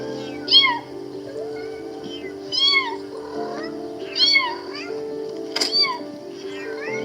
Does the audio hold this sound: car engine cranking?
no